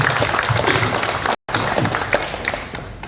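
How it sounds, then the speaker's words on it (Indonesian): Audience applause at an evening event: dense, steady clapping from a crowd fills the whole stretch, broken once by a brief moment of silence before resuming just as full. "Sekali lagi tepuk tangan"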